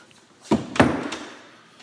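A linen closet door in an apartment swings shut with a soft bump followed by a firmer closing thud, close by, then a short fading rustle in a quiet room.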